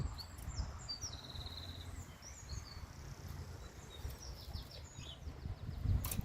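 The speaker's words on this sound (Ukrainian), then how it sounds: "Пташки співають, красота." Birds sing in a garden in a Dutch village, with faint, distant chirps and short twittering phrases repeating over a steady outdoor hiss and low rumble.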